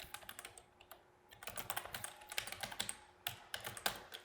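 Quick, uneven bursts of typing on a computer keyboard, light key clicks clustering into fast runs with brief pauses, close and quiet, with no voices.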